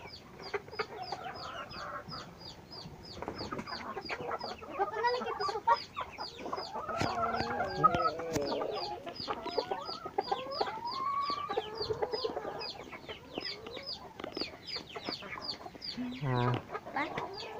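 Chickens in a yard cluck steadily and continuously while being fed fresh grass, with many overlapping close calls, an occasional rooster-like squawk and faint human voices under the flock.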